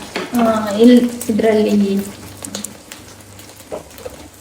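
Potato slices fry on a hot tawa with masala, a close, steady sizzle and crackle with stirring scrapes, loudest early and fading later, while a voice talks over it.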